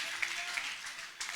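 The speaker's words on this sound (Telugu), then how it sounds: "చప్పట్లు కొడదాం, హల్లెలూయా హల్లెలూయా" Church congregation clapping together in a steady, brisk applause that is moderately loud and continuous, with a voice faintly audible over the clapping.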